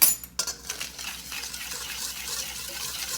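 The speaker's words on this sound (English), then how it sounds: "you're going to mix all those ingredients together and put them to the side" Pancake batter ingredients being stirred together in a bowl, a sharp clink of a utensil against the bowl at the start, then a soft, continuous scraping and swishing at close range, quiet and without talk.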